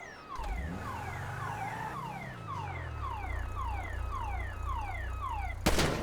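A car alarm goes off in Grand Theft Auto V and cycles through loud, repeating falling electronic chirps over a steady low tone. It sounds continuously for about six seconds, then a sharp burst cuts in at the end.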